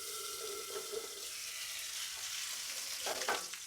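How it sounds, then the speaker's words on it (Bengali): Fish frying in a pan on a home stove, a steady broadband sizzle with a few brief clinks or scrapes near the end, no talk. "মাছ ভাজা হয়ে গেছে।"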